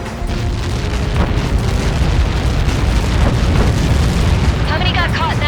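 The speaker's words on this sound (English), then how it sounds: "How many got caught in that explosion?" A missile impact explosion in the air-combat video game Ace Combat 7 roars as a loud, sustained rumbling blast, filling the scene with dense low booming under radio chatter and game sound.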